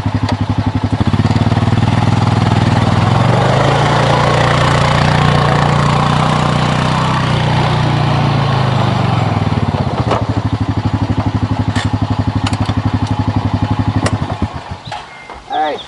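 A Honda Pioneer 500 side-by-side drives in a circle in two-wheel drive, its engine droning loud and close, rising then easing in pitch before fading near the end, with some talk mixed in.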